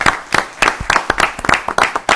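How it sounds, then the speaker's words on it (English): A small round of clapping at a town board meeting, a handful of people producing sparse, uneven claps that come in close bursts across a couple of seconds. "Yeah, they deserve a round of applause."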